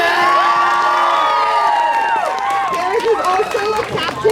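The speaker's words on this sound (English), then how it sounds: "Let's give her a huge round of applause." A crowd at a high school swim senior night cheers and whoops loudly, with shrill children's and teens' shouts rising and falling over a lively clamour that continues throughout.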